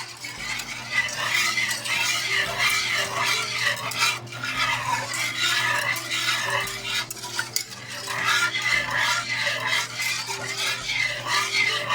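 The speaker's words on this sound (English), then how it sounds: "So I'm gonna stir now." Custard for a Boston cream cake is stirred in a pot, with continuous scraping and swishing of the utensil and a faint sizzle underneath, close and steady throughout.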